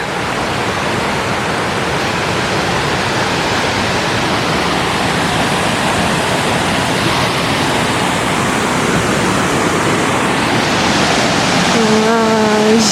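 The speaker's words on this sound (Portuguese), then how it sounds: "A queda d'água aqui é menor" A small waterfall on a trail in Laos, near a little river bridge, gives a loud, steady rushing roar close by, with a brief voice surfacing at the very end.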